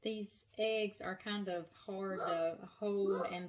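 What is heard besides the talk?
No everyday noise stands out behind the speech.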